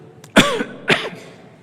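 Two hoarse coughs, close and fairly loud, about half a second apart, with a short quiet pause between them.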